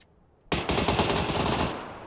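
Automatic gunfire in the battle royale game PUBG: a loud, sustained burst of rapid shots starting abruptly and continuing for over a second, then cutting off into a short ringing tail, with no talk.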